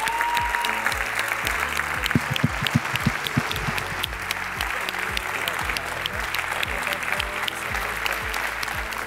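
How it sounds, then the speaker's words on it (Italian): A large audience at the FIPSAS 2023 medal ceremony applauds the blue-team athletes: sustained, dense clapping with sharp individual claps standing out near the front, a continuous loud roar of hands with faint voices underneath. "vorrei davvero un grande applauso per questi ragazzi"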